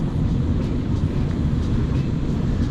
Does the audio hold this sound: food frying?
no